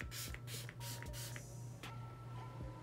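A strong facial mist bottle is pumped several times in quick succession, short hissing bursts over a steady background hum, close and fairly loud.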